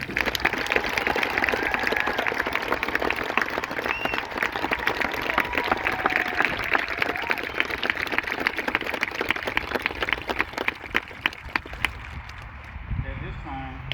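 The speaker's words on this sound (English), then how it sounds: "please join me in a round of applause for our newest American soldiers" Audience applause for newly graduated soldiers at a Fort Sill Army graduation ceremony, a dense sustained wash of clapping that holds steady for most of the clip, then tapers off toward the end.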